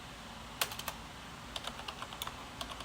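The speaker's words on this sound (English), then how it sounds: "Then we can exit from the pod and then we can delete the pod by typing" A computer keyboard clicks as a kubectl command is typed, a sparse run of light keystrokes: a quick cluster, a pause, then a steadier string of taps, close and quiet.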